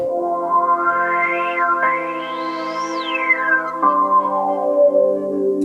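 Synth chords passed through the analog filter of a Crave synthesizer, with sustained tones whose filter sweeps rise and fall, shifting abruptly between chords; loud and steady throughout, with no voices.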